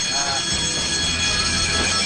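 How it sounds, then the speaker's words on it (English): A motion detector alarm is going off, a continuous high electronic ringing tone over steady background noise, loud and unbroken from start to finish. "sets off the alarm."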